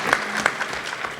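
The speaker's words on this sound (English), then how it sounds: "Give Apollos a round of applause for helping to facilitate this." Applause at a panel dialogue between the NBA and WNBA players' unions, a brief, fairly quiet patter of clapping from a modest crowd.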